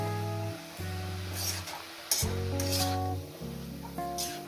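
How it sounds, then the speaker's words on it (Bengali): Leafy greens stir-fry in a pan, a soft sizzle and stirring rustle with brief brighter bursts, heard beneath prominent melodic music that plays throughout. "দেখছেন বন্ধুরা কত সুন্দর করে শাকটা ভাজা রান্না করছে"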